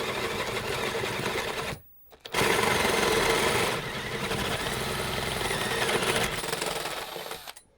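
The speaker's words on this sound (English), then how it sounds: "So now we're drilling." An electric drill whirs loudly and steadily, cuts out briefly, then resumes drilling a hole for a turntable tonearm for several seconds before winding down.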